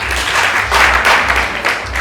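Audience applause at a nursing students' dinner and prom night in a hotel, a dense continuous wash of clapping that swells and holds steady throughout, loud and close, with no speech over it.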